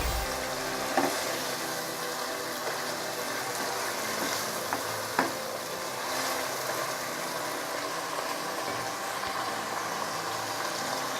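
Beef pieces frying in a pan for beef karahi give off a steady, fairly quiet sizzle, with a few faint clicks and knocks scattered through it and no voices.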